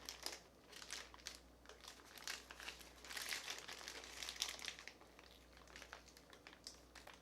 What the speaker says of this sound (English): Now you take your parchment paper and you start rolling it.